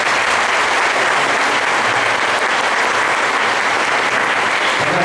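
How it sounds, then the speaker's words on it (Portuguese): A church congregation at a year-end Mass applauds loudly, a dense, steady wash of clapping that fills the whole stretch without pause. "Uma grande salva de palmas."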